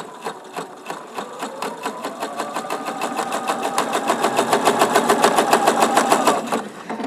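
A sewing machine stitches a fabric piece at a quarter-inch seam setting, its rapid even needle clatter running up to speed and holding steady close by for several seconds before stopping.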